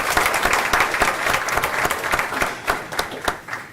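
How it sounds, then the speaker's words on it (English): Sustained applause from a board meeting audience, dense steady clapping with a few sharper claps standing out near the end. "I do think that deserves a round of applause."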